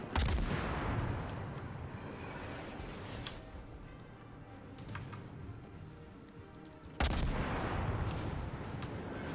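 Ship guns firing at destroyers in the video game World of Warships, aboard the Lo Yang: a heavy booming salvo opens, fades into a rumble, and a second loud burst hits near the end, with light clicking between.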